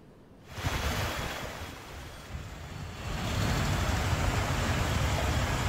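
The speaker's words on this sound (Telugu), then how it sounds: "హైదరాబాద్ లో భారీ వర్షం కురుస్తోంది" Heavy rain pouring over Hyderabad during a non-stop downpour, a steady loud broadband roar that swells louder after a few seconds, with no voices.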